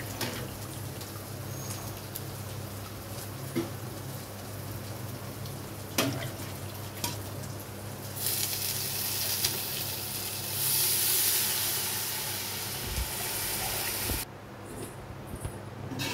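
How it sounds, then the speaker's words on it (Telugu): Water poured into a pot of four glasses of rice for bagara rice, a steady hissing splash that runs for several seconds and grows brighter before stopping. "ఇప్పుడు దీంట్లో వాటర్ పోసానండి"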